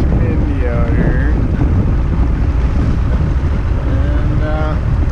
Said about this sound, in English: It is windy, shindy out here.